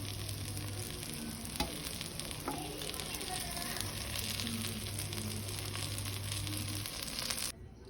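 Cooked rice for Karnataka-style vangibath is tossed and stir-fried in a pan, giving a soft continuous sizzle with occasional clinks and scrapes of a spatula, fairly quiet and without voices.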